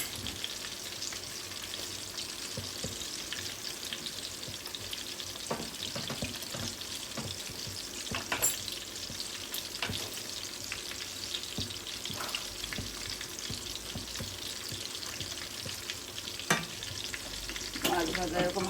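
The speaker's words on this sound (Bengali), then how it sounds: "মাছ ভাজা এরকম হালকাই হবে," Rohu fish fries in hot oil for a Bengali kalia, giving a steady, dense sizzle throughout with occasional stirring clinks and scrapes, close by and with no talking.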